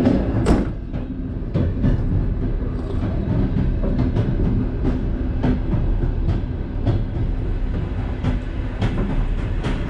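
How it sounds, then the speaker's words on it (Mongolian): A passenger train departing on the Ulaanbaatar–Selenge route clatters along the rails with a steady rumble and regular clicks from the wagons, loud and near, with no voices. "Улаанбаатар сэлэнгэч чиглэлийн 271-р вагон хөдөлсөн байна."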